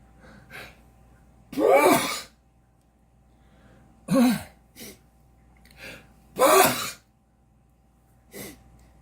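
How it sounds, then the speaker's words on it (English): A few short, sharp bursts of breath and throat sounds spaced apart, building to a sneeze-like explosive exhale, close to the microphone with quiet gaps between. "I'm going to sneeze"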